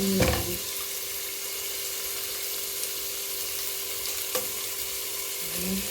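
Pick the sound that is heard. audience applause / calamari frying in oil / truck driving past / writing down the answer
calamari frying in oil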